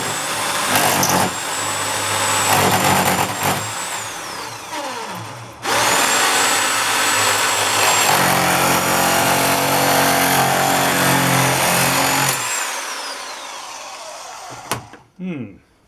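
A Drillpro power nibbler runs loudly through material clamped to the edge of a bench, a sustained motor whine with chattering cuts, stopping partway and restarting before winding down, with brief speech nearby.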